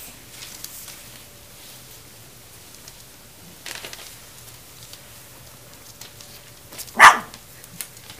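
Puppies barking: a few faint, scattered yips over a quiet background, with one sharper, louder bark near the end.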